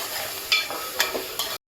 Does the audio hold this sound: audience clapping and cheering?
no